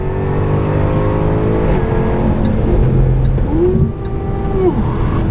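A 2016 Jaguar F-Type R AWD coupe launching hard, its engine loud and close, revving and climbing through the gears with a brief shift partway through.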